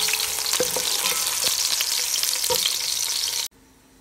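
Onions frying in hot oil for a Sindhi biryani, a steady loud sizzle with a few soft stirring knocks, cutting off abruptly near the end into quiet room tone.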